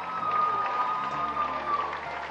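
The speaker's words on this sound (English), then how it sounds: "Let's give yourselves a rousing round of applause." Audience applause at the Miss Universe 2009 show, a short continuous patter of clapping from a large crowd, moderately loud and steady throughout.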